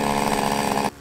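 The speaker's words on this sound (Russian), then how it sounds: "Вооружаемся бензопилой. Заводим ее." A chainsaw engine roars loudly and steadily up close, then abruptly cuts out near the end.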